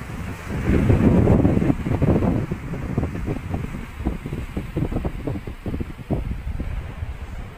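Gusty wind over the sea at a waterfront, a loud rumbling roar that surges early and then breaks into uneven buffeting gusts and wave wash.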